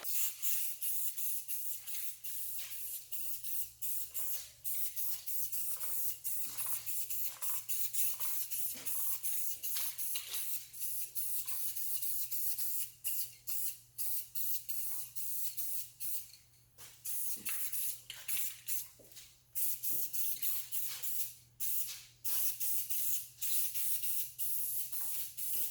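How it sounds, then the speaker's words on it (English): Blue paint is sprayed onto Corvette fuel rail covers in light misting passes. A soft, steady hiss comes in short bursts and pauses, quiet and close, with no talking. "for the first coat, we're just going to kind of mist some blue on here just to get it a little tacky"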